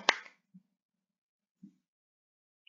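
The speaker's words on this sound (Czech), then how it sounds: "tleskám." A single sharp hand clap snaps out in a quiet room, followed by a couple of faint soft thumps.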